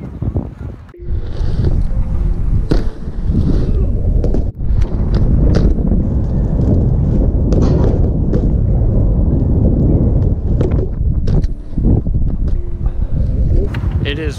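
Heavy wind buffets the microphone in loud, constant gusts at a cold skatepark, with a few brief dips and muffled voices buried underneath.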